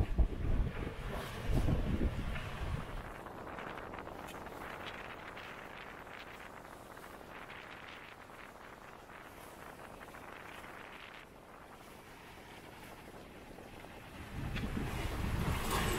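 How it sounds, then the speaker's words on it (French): Wind rushes over a Dick Newick Echo 36 sailing trimaran at sea in the Caribbean, buffeting the microphone in heavy gusts at the start and end, with a softer steady rush of wind and water between. "Là, on a repris un petit peu de vent."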